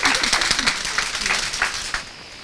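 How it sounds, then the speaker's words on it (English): A small audience claps and applauds for a couple of seconds at a networking talk, steady and fairly close, with faint voices underneath. "Give her a hand clap, and I'll give you a prize for showing up."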